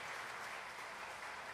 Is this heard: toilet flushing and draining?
no